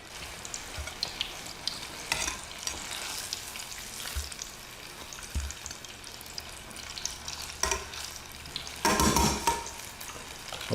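Apple fritters frying in hot oil make a steady, quiet crackling sizzle with occasional louder pops and spurts, heard close up with no talking.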